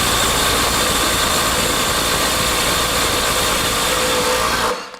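Milwaukee M18 Compact impact wrench hammers continuously at close range, a loud rattling buzz that holds steady for almost five seconds and then stops.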